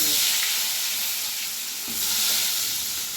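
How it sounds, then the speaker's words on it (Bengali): Potatoes fry in mustard oil seasoned with turmeric and Kashmiri chili powder for a mutton curry, giving a steady, close sizzle with a soft swell of hiss near the end and no talking. "দিয়ে আলুগুলো ভেজে নেব"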